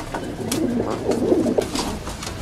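Pigeons coo in soft, repeated throaty phrases at close range, overlapping calls over a faint background murmur.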